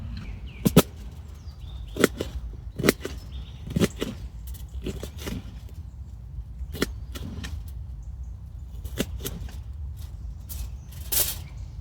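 Onions being chopped with a knife outdoors at a primitive shelter campsite, a series of sharp, irregular chopping strikes over a quiet background, some close together and others spaced apart.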